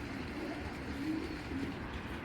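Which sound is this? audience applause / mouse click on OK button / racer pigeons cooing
racer pigeons cooing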